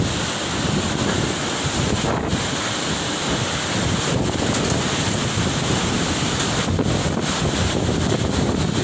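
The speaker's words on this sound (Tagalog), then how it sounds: "Ganyan kalakas ang hangin ngayon dito sa Calawag, Quezon." Strong wind roars steadily into the microphone in Calawag, Quezon, with dense broadband buffeting and gusts throughout, loud and continuous with no voices.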